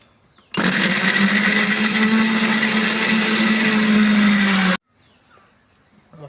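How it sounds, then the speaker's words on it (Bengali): A mixer grinder whirs loudly as it blends dried and green chillies with water, a steady high-pitched motor roar lasting about four seconds before cutting off abruptly into near silence. "দিয়ে আমি এগুলো মিক্সি মেশিনে"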